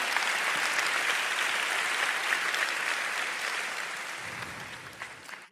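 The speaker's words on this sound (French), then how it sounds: "Puis-je avoir un amen et des applaudissements pour Jésus?" A church congregation at City Harvest Church in Singapore applauds in a full, sustained roar of clapping that holds steady, then gradually thins and fades toward the end.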